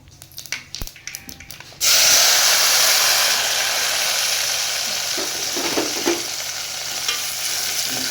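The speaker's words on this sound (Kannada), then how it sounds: "ಈಗ ಸ್ವಲ್ಪ ಚಟ್ಪಟ ಅಂದಪ್ಪ ಅಂದ್ರೆ ಟಮಾಟೆ ಹಣ್ಣು ಅದ್ರೊಳಗನ ಹಾಕೊಂಬಿಡೋಣ ರೀ" Tomatoes drop into hot oil with mustard seeds and cumin, setting off a sudden loud burst of sizzling about two seconds in that then settles into a steady, close frying hiss.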